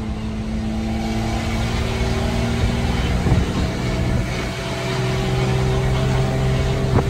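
A vehicle's engine drones loud and close, its pitch climbing steadily as it accelerates, a continuous motor hum with no talking over it.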